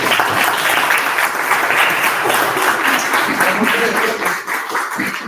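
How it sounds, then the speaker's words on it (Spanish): An audience claps after a talk, giving a loud, steady round of applause from many people that lasts throughout, dipping slightly near the end. "Le damos un aplauso a los Félix Aguirre."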